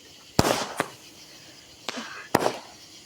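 Fireworks being set off outdoors, with three or four sharp, loud bangs spaced irregularly across a few seconds, each followed by a brief crackling decay, with no talking.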